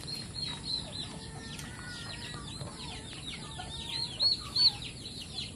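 Turkeys and young chicks on a free-range farm, a flock of soft clucks, peeps and gobbling calls over steady outdoor background noise, with a couple of louder calls near the end.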